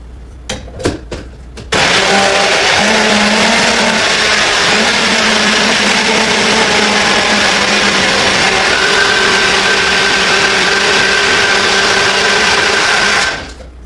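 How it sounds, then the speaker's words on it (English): A blender blending oats and protein runs with a loud, steady motorized whir for about twelve seconds after a few brief knocks, then cuts off abruptly. "we're gonna blend all of this up. Again, I gotta go to my blender."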